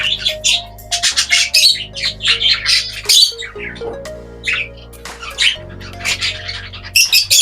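A hen gives repeated loud squawks in short bursts, mixed with chirps from other birds kept nearby in a breeder's aviary, with a steady low hum underneath throughout.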